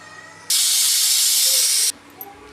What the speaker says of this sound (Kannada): ಇಲ್ಲಿ ಕುಕ್ಕರ್ ವಿಷಲ್ ಹೊಡ್ಯೋಕೆ ರೆಡಿ ಆಗ್ತಾ ಇದೆ.